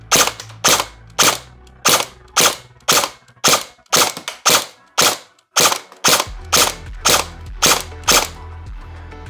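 A Lancer Tactical KR9 airsoft rifle fires steady semi-automatic shots over a chronograph, about fourteen sharp, loud cracks spaced roughly half a second to a second apart, close to the microphone, with no talking.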